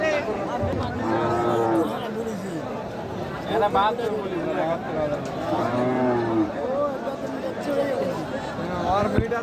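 Cows moo again and again with long, drawn-out lows over the chatter of a busy crowd at a cattle market before Eid al-Adha.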